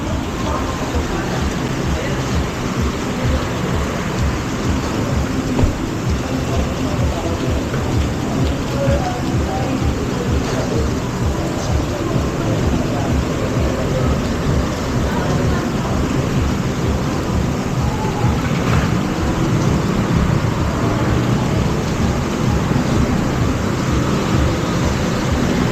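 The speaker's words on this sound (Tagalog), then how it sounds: "Lakas ng ulan, no?" Heavy rain pours down in a steady, loud roar on surfaces outdoors, with low thunder rumbling beneath it and occasional traffic sounds mixed in.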